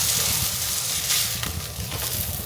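A tortilla crisps in a hot pan, giving a steady, close sizzle with light frying crackle and a few soft scrapes, no voices over it.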